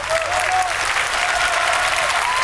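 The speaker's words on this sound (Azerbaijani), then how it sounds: "ustada alqış düşür öncə" A studio audience at a televised Azerbaijani talent show applauds the master after a Sari Gelin performance, dense steady clapping close and full for the whole stretch, with a faint voice underneath.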